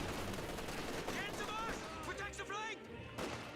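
Dense skirmish gunfire in a Company of Heroes 2 battle around a destroyed Panzer IV, Volksgrenadiers exchanging fire, steady crackling shots layered under continuous commentary talk.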